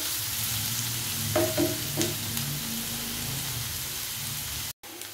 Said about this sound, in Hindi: प्याजों को भी लाइट ब्राउनिंग करना है।